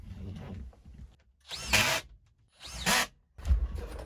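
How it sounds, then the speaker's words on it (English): A power drill drives screws into a drywall sheet being hung, three short high-pitched whirring bursts, each about half a second, close and separated by quiet handling sounds. "Let's get some screws in."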